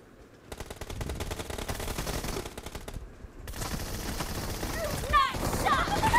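Rapid bursts of automatic gunfire in the mobile battle royale game PUBG Mobile, dense and continuous across most of the stretch, with a short gap before more shots and game effects resume.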